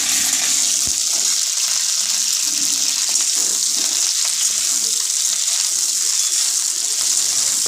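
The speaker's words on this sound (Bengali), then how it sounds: "ফুলকপিটা দিয়ে আমি একটু দুই থেকে তিন সেকেন্ডের জন্য একটু নাড়াচাড়া করে এটাকে ভেজে নেব" Cauliflower sizzles while being stirred and fried in a pan, a constant bright hiss with faint clinks, steady and fairly close.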